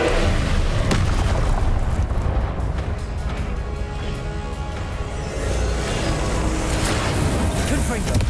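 The Incendio fire spell cast in Hogwarts Legacy video game roars as a loud, dense, sustained burst of flame and booming blasts over several seconds, with speech-like sounds mixed into the busy battle noise.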